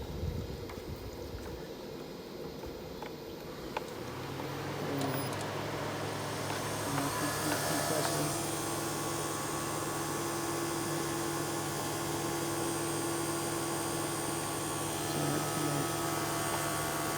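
An AC compressor on a Toyota Camry Hybrid runs during a refrigerant recharge. A low steady hum with tonal whine sets in a few seconds in and continues evenly in a quiet space.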